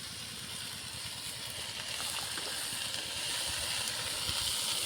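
Chopped cabbage hits a pan of spices already fried with green chilli and shrimp, giving a steady, close sizzling hiss that swells slightly over a few seconds.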